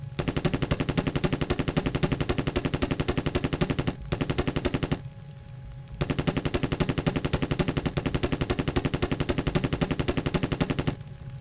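Rapid automatic gunfire in the Terminator: Future Shock game, loud continuous bursts of machine-gun fire with a brief pause near the middle before firing resumes.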